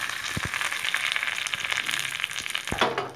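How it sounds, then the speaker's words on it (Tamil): Mustard seeds and urad dal crackle in hot oil with curry leaves, a constant sizzle broken by sharp, close pops at uneven intervals. "கடுகு நல்லா பொரிஞ்சோடனே கருவேப்பிலை போட்டுக்கிறோம்"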